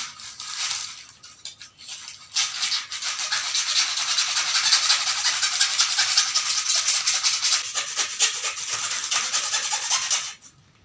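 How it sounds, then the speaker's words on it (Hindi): A comb is rubbed briskly against newspaper at close range, giving a dense, continuous scratchy rustle that starts briefly, pauses, then runs steadily for about eight seconds before stopping abruptly. "इस कंघे को हम रब करते हैं इस न्यूज़पेपर के अंदर"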